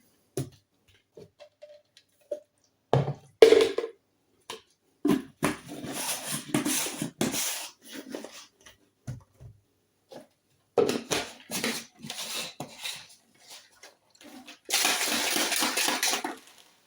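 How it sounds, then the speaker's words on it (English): RYSE Godzilla preworkout powder is mixed into 7 ounces of water in a shaker, giving intermittent bursts of rattling, clicking and sloshing, with a long steady shake near the end and no talk. "So I've got the recommended amount of water, 7 ounces, and I'm going to mix this up into it."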